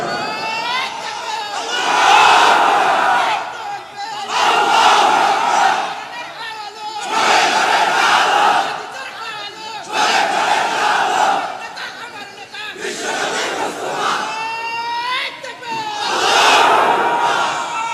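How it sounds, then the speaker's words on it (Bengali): A large crowd at an Islamic waz sermon gathering shouts the takbir, Allahu Akbar, at full volume about six times in a steady rhythm, each roar swelling and fading before the next. "গলা ফাটাই তাকবীর দাও ওমরের মতো জোরে।"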